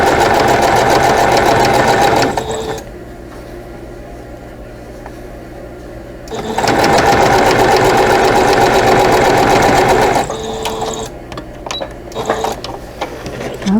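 A sewing machine fitted with a piecing foot stitches quilt block seams, running in two long loud bursts with a quieter stretch between, then shorter stop-start runs and small clicks near the end.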